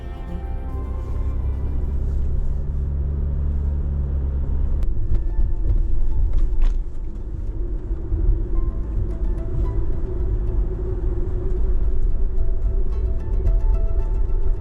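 Inside a car driving a long road in Hokkaido, a steady low engine and tire rumble fills the cabin, with a brief shift in road noise partway through and no talking.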